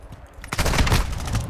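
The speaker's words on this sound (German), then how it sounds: "einen Schuss habe ich absetzen können" Rapid automatic gunfire in the video game Call of Duty: Modern Warfare II, a loud dense burst of shots that starts after a brief quiet moment and keeps rattling steadily to the end.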